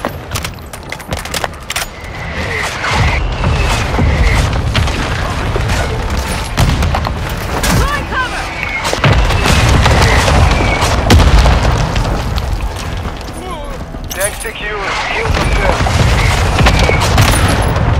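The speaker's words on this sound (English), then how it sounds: "Hostile mortar strike near your position." Booming mortar strike explosions rumble from a Call of Duty: Modern Warfare II multiplayer match, heavy blasts and scattered gunfire layered almost continuously, loud and close, with a radio voice calling out under the chaos.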